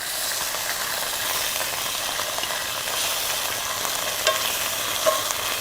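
Food sizzles steadily in a pan on a Snow Peak GS-600 burner, a constant close hiss of frying with a couple of faint clicks near the end and no talking.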